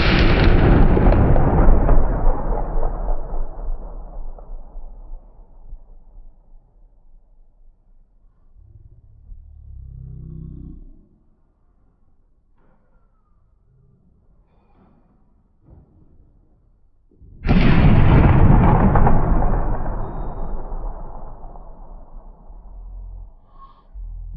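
An Astra 600/43 pistol fires two loud booming shots at an outdoor target practice session, each shot followed by a long, rolling echo. The shots are spaced well apart, with quiet handling sounds between them.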